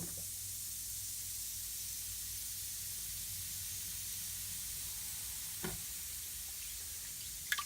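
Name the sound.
yeast mixture fizzing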